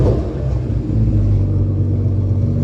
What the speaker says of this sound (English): let me give you guys a little cold start. The muffler delete sounds way different now